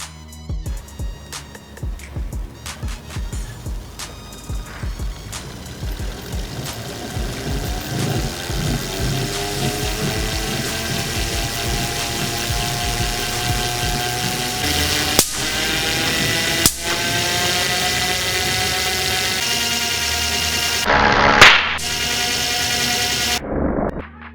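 A small electric motor spins a homemade Wimshurst electrostatic machine, producing a steady whirring drone with mechanical rattling that rises slightly in pitch, and a few sharp clicks near the end.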